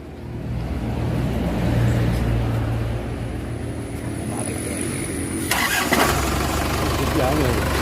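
An Isuzu Hilander engine in a motor shop turns over and catches, then settles into a steady, loud idle, with a rising rev near the end.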